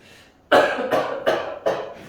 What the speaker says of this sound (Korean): 왜 기침하세요?